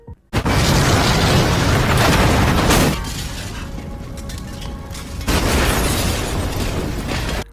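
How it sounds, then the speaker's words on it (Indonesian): A loud, sustained roaring blast of noise, like an explosion, fading briefly to a rumbling hum before surging loud again. "terdengarlah bunyi ledakan boom"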